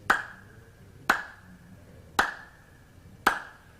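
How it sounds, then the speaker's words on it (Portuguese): Four evenly spaced high-pitched hand claps of the star style (palma estrela), sharp and bright, about one second apart, close and alone with no talk. "agora vamos passar para a palma estrela. Olha como o som dela é um pouco mais ardidinho"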